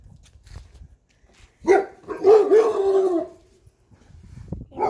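Household dogs bark in a short close burst of several rough barks and whimpering yips, loud against a quiet room.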